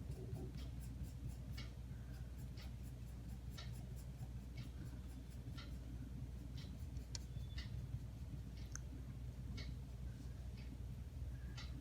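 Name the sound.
pencil cross hatching on paper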